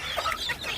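Young farm chickens, a couple of months old, cluck softly and briefly at close range while being fed a mixed natural feed.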